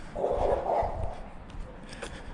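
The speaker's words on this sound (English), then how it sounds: "Oh, I got some doggy dogs." Dogs barking in Hokkaido, Japan, a few muffled barks heard at a moderate distance over steady background noise.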